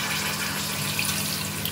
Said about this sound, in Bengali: জল দিয়ে সবজিগুলোকে ভালোভাবে সিদ্ধ করতে হবে।